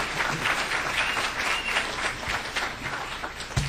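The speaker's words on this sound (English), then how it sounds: "Let's go ahead and give these wonderful sponsors a round of applause." An audience at a semi-pro football Hall of Fame induction ceremony applauds the event's sponsors, a steady round of moderate, fairly distant clapping lasting a few seconds before fading slightly.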